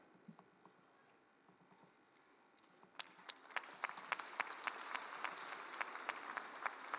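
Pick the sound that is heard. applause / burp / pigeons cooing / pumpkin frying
applause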